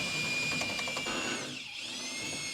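Power drill fitted with a long flexible shaft boring through a wall, a loud, steady high whine with the pitch dipping briefly under load before recovering, heard alone.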